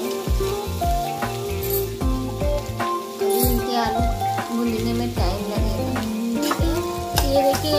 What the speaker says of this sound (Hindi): बस इसी तरह इसको तोड़ते जाएंगे और भूनते जाएंगे